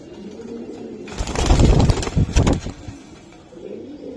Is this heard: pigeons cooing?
yes